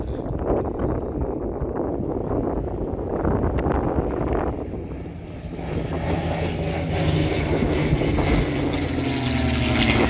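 P-51 Mustang and P-63 Kingcobra World War II fighter planes pass by at an air show, a steady loud propeller-engine roar swelling and shifting in pitch as they fly past, with some wind noise on the microphone.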